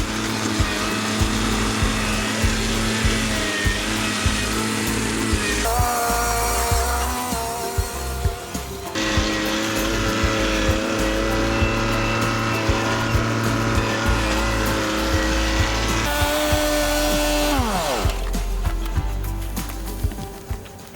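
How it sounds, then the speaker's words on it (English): Tractor working in a pig pasture, a loud steady engine drone with rising and falling revs and shifting pitch, running alone and close by. "I'm gonna get on the tractor"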